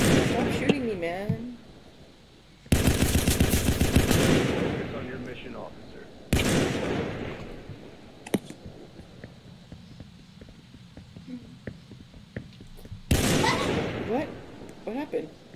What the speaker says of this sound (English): Can you guys stop shooting each other?